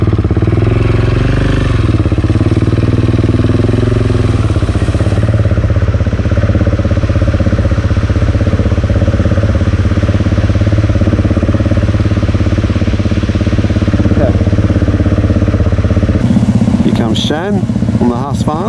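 A Husqvarna motorcycle runs on a remote Cape York track. The engine is a steady, close mid-pitched drone, then changes near the end. A voice is heard over it.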